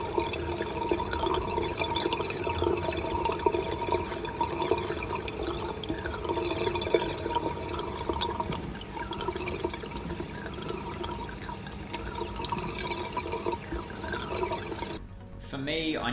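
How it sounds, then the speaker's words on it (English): An aquarium overflow drain pipe gurgles and trickles with a steady, continuous rush of falling water, close and fairly quiet, with no voices. "an oversized open stock pipe is prone to siphon squeals, gurgling, or trickling noises"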